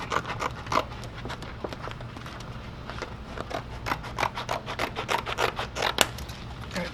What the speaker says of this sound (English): I'm gonna cut out a piece of this vinyl